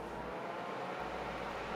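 PC case fans in a Sades Osiris RGB mid-tower run at maximum speed, making a steady broadband rushing whoosh. The sound is moderate and continuous, with no voices.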